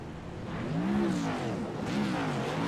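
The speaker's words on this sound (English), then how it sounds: "Patrick Russell burns it down on the front straightaway as he likes to hit the wall for his burnouts." Race car at USA International doing a burnout on the front straightaway, a sustained loud engine drone with wavering, rising and falling pitch, heard without speech.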